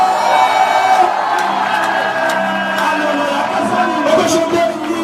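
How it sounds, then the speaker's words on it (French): A worship crowd at a prophetic church gathering whoops, cheers and shouts for joy, a dense, loud and continuous wall of voices with scattered higher cries throughout. "Poussez des cris de joie."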